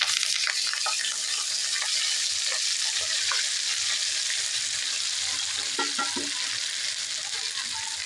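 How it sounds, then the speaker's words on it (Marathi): Fenugreek leaves frying with garlic in hot oil for a dhaba-style dish, giving a loud, continuous close-up sizzle and crackle with occasional stirring clatter and no voices. "आता ही मेथी टाकून घेऊया"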